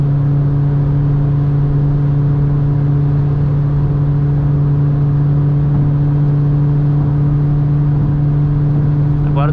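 A Volkswagen Amarok V6 pickup engine drones steadily at part throttle from inside the cab, a loud, constant hum that holds without distinct revving peaks.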